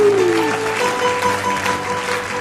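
Church congregation applauding steadily during a worship service, a dense even wash of clapping with a brief sliding tone at the start.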